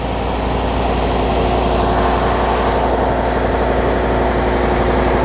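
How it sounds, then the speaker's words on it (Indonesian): Inside the engine room of the Noor Fitri Indah river boat, a heavy engine drones loud and close, a steady low rumble with a constant hum and no letup. "Ini gue lagi di ruang mesin, jadi berisik banget."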